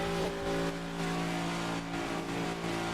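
Race cars on track at Kansas, engines revving and droning with pulsing rises and falls in a continuous low roar, no voices heard.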